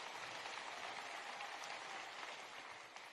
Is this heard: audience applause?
yes